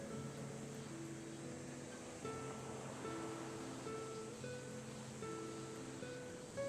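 Ocean waves wash steadily onto a white beach on an island's southern shore in the video game Paranormasight, a soft continuous surf hiss sitting quietly beneath gentle tonal background music.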